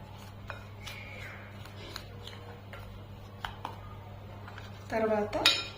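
A spoon stirs a homemade pitambari cleaning powder with lemon salt in a bowl, giving scattered light scrapes and clinks, then a louder burst of clattering at the end, over a steady background hum.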